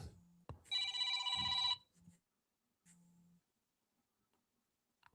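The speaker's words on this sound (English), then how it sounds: "your phone ringing again" A phone rings with a bright electronic ringtone burst, loud and close, amid brief low sounds and near silence in a quiet room during a podcast recording.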